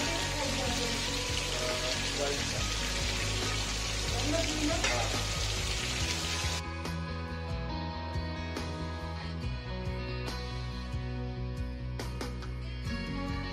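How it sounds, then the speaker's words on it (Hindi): Minced meat chapli kebabs frying in oil in a pan, a dense close sizzle that settles into softer crackling with intermittent pops, voices faintly present in the background. "तीन से चार मिनट में हमारे कबाब अच्छे तरीके से कुक हो जाएंगे।"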